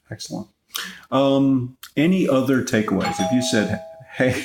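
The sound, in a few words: doorbell ringing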